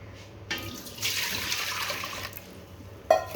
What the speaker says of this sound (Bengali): পাতিলে জল দিয়ে দেব